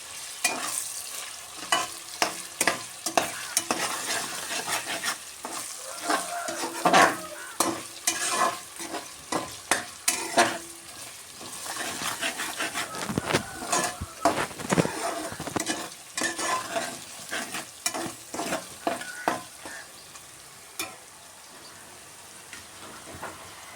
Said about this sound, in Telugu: అల్లం వెల్లుల్లి పేస్ట్ కూడా వేసేస్తున్నానండి ఇది కూడా దోరగా వేయగాలి